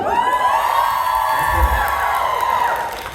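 A live interview event crowd in Chicago cheers and whoops loudly and continuously, a dense roar of voices with shouts rising and falling and no distinct clapping standing out.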